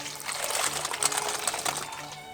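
Cold water poured into a bowl with ice cubes while preparing a French Dubarry velouté, a steady close splashing pour with trickling, no talk.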